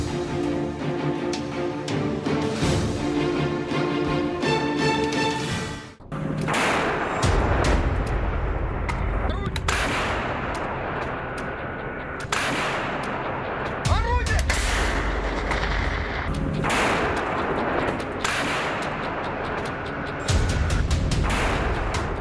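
Repeated loud blasts and booming explosions from a Russian drone attack on Ukraine, several sharp bursts spaced apart over a continuous noisy rumble, with voices faintly underneath.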